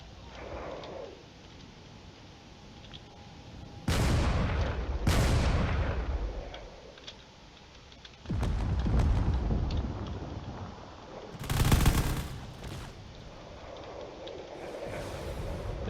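In a space combat video game, railgun fire hits a ship with several heavy booming impacts and blasts rising out of a low rumbling background, spaced unevenly with quieter stretches between them.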